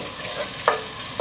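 Ginger and garlic fry in vegetable cooking oil over medium-high heat, a steady close sizzle with a couple of faint stirring scrapes, and no talk.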